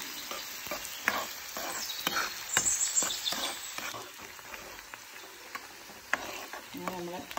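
Onions frying and being stirred in a pan for a garlic chilli curry, a soft steady sizzle broken by rhythmic spoon scrapes and clicks, fairly quiet and close.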